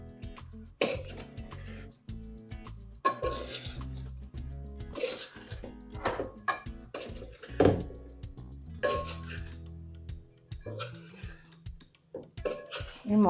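Sour raw mango pieces are mixed by hand with salt and chilli powder in a vessel for pickle. Intermittent close clinks and soft rustling squelches come in bursts, with quiet pauses between them.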